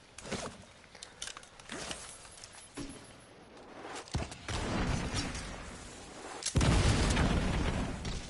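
Enemy grenadiers keep lobbing grenades in The Division 2, and several sharp booming blasts go off at irregular intervals. The later explosions are louder and rumble longer, with quieter crackles and movement in between.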